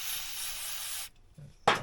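Brake cleaner sprays in a steady, loud aerosol hiss for about a second onto a rusty washer from a vintage Polaris snowmobile, then cuts off, followed by a soft knock and a second short hiss.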